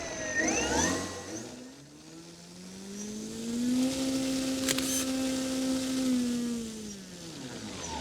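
Electric motor of a 67-inch Skywing ARS300 RC plane runs up under throttle, a smooth whine climbing in pitch, holding steady and loud for several seconds, then winding down, with a faint camera click midway.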